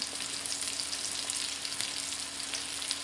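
Chicken seasoned with salt and pepper sits frying in a pan, giving off a steady, even hiss of sizzling fat at moderate volume with no talk over it.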